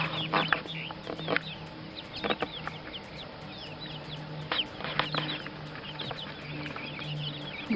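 Chickens cluck and chirp softly around a small backyard chicken house, scattered calls over a faint rustling background with occasional louder peeps and a steady hum.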